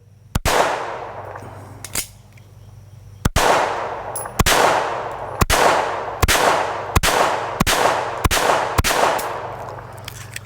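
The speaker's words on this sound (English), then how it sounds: "I'm going to throw a couple rounds through my old trusty here, the gun that I've had for a very long time" An old micro .22 pistol fires about ten sharp shots at uneven intervals, loud and close, each crack trailing into a ringing outdoor echo with a steady low hum behind.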